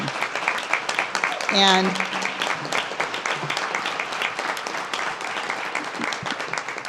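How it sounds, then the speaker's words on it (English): Applause from a city council meeting audience for a planning team, a steady moderate patter throughout, with a brief voice and a rising tonal sweep near the start and faint talk mixed in. "Let's give this planning team a big round of applause."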